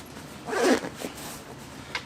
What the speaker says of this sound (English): This zips in.